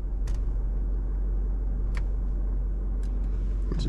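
A 2024 Isuzu D-Max facelift engine pulls steadily off road as the wheels spin, giving a constant low rumble with a few brief higher scrabbling bursts over the top.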